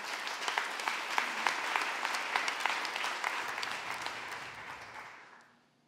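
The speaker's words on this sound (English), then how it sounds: "Clap your hands if you believe that." A church congregation claps together in a dense, steady wash of hand claps with some sharper individual claps standing out, then the sound thins and dies away over the last second.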